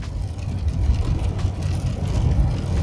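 A 2024 Chevy 2500 HD with a 6.6L gas engine and 10-speed Allison transmission is downshifting while towing, giving a steady low engine drone and road rumble inside the cab with no voices.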